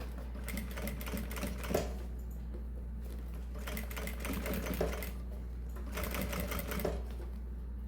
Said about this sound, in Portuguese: Eu vou só ajeitando e costurando, ó, o início com o retrocesso.